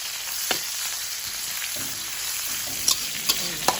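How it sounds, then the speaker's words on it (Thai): Pork stir-fries in a pan with a continuous moderate sizzle, while scattered sharp clicks of a utensil against the pan mark stirring, before straw mushrooms and glass noodles go in. "เราก็คนให้หมูให้สุกก่อนนะคะ"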